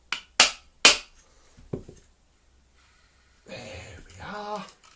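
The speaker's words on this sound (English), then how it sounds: "I'll use just the back of the hammer to pop the bearing into place." The back of a hammer taps a bearing into the motor of a Miele Complete C3 Extreme Powerline vacuum, three sharp metallic knocks then a softer fourth, followed by someone speaking.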